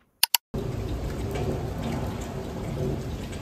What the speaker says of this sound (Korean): 오늘은 비가 많이 와서 좀 걱정을 많이 했는데